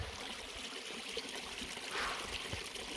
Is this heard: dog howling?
no